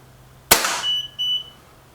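A single sharp crack from a Reximex Accura air rifle fired through a chronograph, loud and close, followed by a thin electronic beep tone from the chronograph and brief ringing decay.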